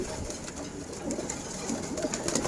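Pigeons in a seller's loft in Wari, Dhaka coo in a dense, steady murmur, several birds overlapping at moderate distance, without any talk.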